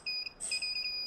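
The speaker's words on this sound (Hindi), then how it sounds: "मल्टीमीटर को हमने बीप रेंज पर सेट कर दिए हैं।" A multimeter set to continuity mode emits short high beeps, a brief tone, a gap, then a longer steady beep, checking a mobile phone board against ground.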